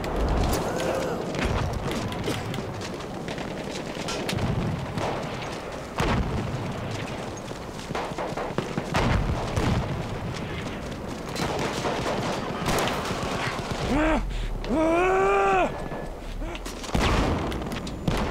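Gunfire in the World War I shooter game Battlefield 1, heard as a loud, sustained battle of rifle and machine gun shots and booms over several seconds, with a rising tonal game effect partway through.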